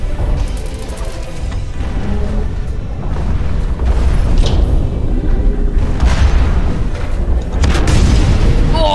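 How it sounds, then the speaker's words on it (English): Grenade launcher blasts in the mech shooter Hawken, a run of heavy booming explosions with dense rumbling game action throughout, loud and continuous. "the grenade launcher is so fun"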